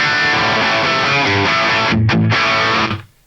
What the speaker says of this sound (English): I have the Brit 800 model loaded up with one of my own cabinet IRs.